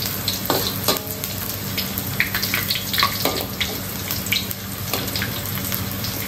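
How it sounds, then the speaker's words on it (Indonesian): Shallots and chili fry in a pan with a steady, loud sizzle and occasional stirring scrapes, close up, with no talking. "Dikirau sampai bawang cabai kuning-kuning."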